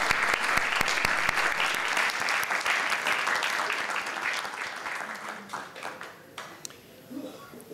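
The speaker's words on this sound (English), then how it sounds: "I just want to give a big round of applause." Audience applause at a Japan-related event in Gujarat, with the Japanese ambassador, Hiroshi Suzuki, on stage: a loud, dense burst of clapping from a large crowd that thins out toward the end into scattered claps.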